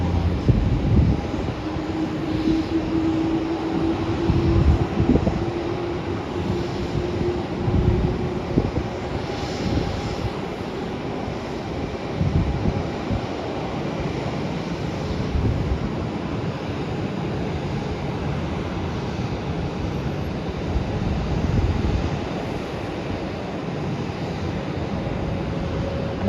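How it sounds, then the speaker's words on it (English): An Air New Zealand airliner taxiing at Melbourne airport, a steady low engine rumble and whine held for the whole stretch, moderately loud and continuous with no talk. "Air New Zealand flight that's taxiing now is going to Wellington."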